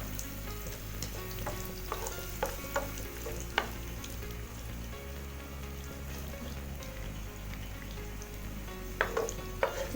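Grated coconut frying in a pan, a steady close sizzle with scattered scraping clicks from stirring, faint and continuous throughout.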